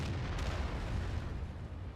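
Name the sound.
artillery shells exploding in video game World of Tanks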